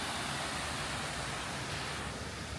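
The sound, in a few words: waterfall of the 9/11 memorial pool, New York City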